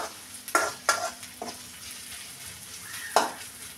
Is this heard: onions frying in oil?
yes